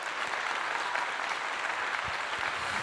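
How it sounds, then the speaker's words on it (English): A small group claps in steady applause, a dense continuous patter of hands at moderate volume with no voices over it. "Let me give him a clap."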